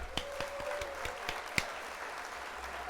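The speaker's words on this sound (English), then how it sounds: "So first we'll hit the applause." A canned applause sound effect plays on a live building stream: a fairly quiet, steady patter of clapping with a few sharper claps standing out, no voices over it.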